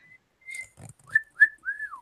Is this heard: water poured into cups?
no